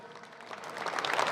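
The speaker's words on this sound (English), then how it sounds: "Give him a big round of applause" Audience applause at an indoor Lucas Oil Late Model Dirt Series banquet, a dense crowd clapping that swells steadily louder through the moment.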